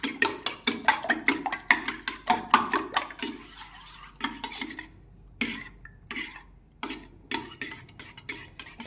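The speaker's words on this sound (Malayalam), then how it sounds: "ഇതിനെ നമുക്കൊന്ന് അടിച്ചെടുക്കാം." Eggs with a pinch of salt whisked in a bowl for an omelette, a quick run of rhythmic clicking strokes that slows and turns to scattered taps near the end, close and alone.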